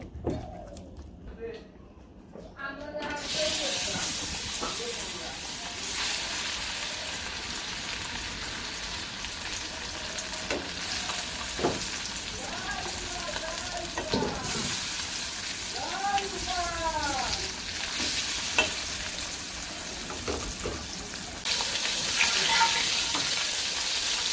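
Fish coated in turmeric, chili and salt fries in hot oil with a loud, continuous crackling sizzle and bursts of spattering, heard up close while a voice talks intermittently over it.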